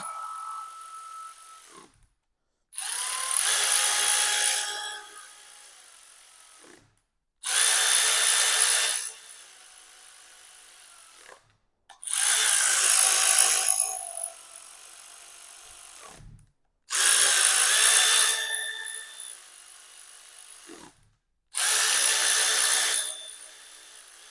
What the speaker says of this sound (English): Little low torque ratchet, just for speed more than anything else.